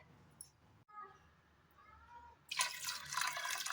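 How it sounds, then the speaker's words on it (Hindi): Quiet room tone with a few faint clinks, then a sudden rush of water pouring steadily into a pot of chana dal lentils for the last second. "तो बस अब हम इसमें थोड़ा सा पानी डालेंगे"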